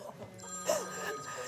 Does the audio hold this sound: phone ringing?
yes